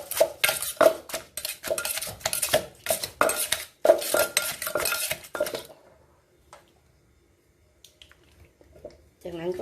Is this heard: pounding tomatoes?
yes